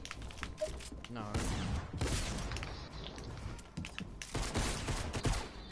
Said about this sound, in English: Stop using that stupid pistol